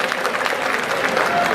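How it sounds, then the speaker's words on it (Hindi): A crowd at a JJP party rally applauds loudly and steadily, a dense, even wash of clapping that fills the whole moment without a break. "एक बार जोरदार ताली है जेजेपी के लिए।"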